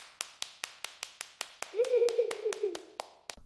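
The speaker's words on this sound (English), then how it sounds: "I am clapping." About a dozen evenly spaced hand claps ring out in a quick, steady rhythm, close and crisp. A voice sounds over the middle stretch of the clapping.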